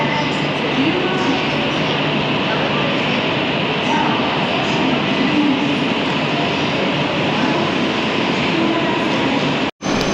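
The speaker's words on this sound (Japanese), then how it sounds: "ちょうど隣のホームには先に出発する小町はやぶさ号が到着した模様です" A Komachi/Hayabusa Shinkansen pulls in at the neighbouring platform of a station, a steady broad rumble and rushing hiss that holds at a constant level throughout, ending with a brief sharp dropout near the close.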